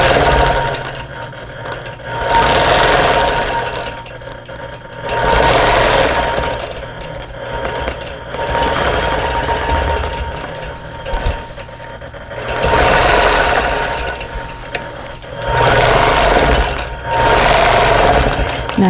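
A sewing machine stitches a pieced block of a vintage quilt sampler in several long motor runs. The machine whirs loudly and close, with short pauses between each run.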